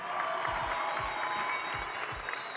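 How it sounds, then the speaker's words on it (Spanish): Steady applause from a crowd at a football club's squad presentation, dense and continuous, with scattered louder claps and a low murmur underneath. "¡Un aplauso para ellos!"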